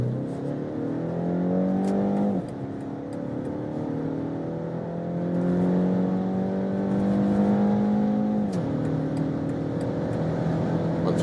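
A BMW X1 four-cylinder engine pulls hard from a 40 km/h rolling start in sport mode, its rising drone climbing steadily through two gearshifts, loud and close from inside the cabin.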